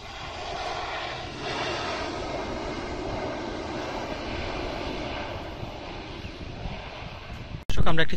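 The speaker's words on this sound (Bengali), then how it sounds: "ঢাকায় অবতরণের জন্য এগিয়ে আসছে US বাংলা এয়ারলাইন্সের ATR মডেলের এই বিমানটি।" A US-Bangla Airlines ATR turboprop approaching Dhaka to land from Chittagong, its engine drone a steady broad roar with wind buffeting the microphone, ending in a sudden louder gust.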